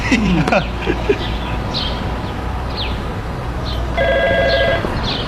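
A short electronic phone ring with steady, repeated tones sounds near the end, over a busy outdoor background with chirps and bleating.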